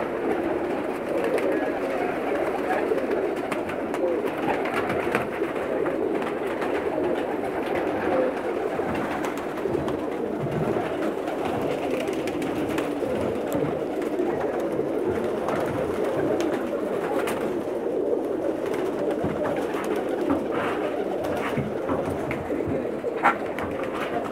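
Pakistani pigeons cooing in Jeddah, a continuous low murmuring coo from several birds close by, steady throughout with no break.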